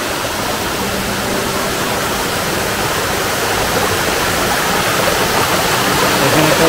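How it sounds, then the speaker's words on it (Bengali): A waterfall in the Meghalaya hills roars as a steady, loud broadband rush of falling water, close and continuous throughout with no voices. "আসলে এই ঝর্ণাটা কিন্তু মেঘালয় পাহাড়ের ঝর্ণা"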